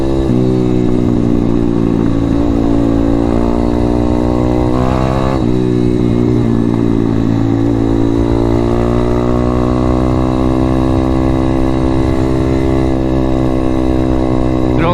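An M2R RF160 road-legal pit bike runs loud and close, its single-cylinder engine droning steadily with rising and falling revs and a brief blip of throttle midway, on a cold ride.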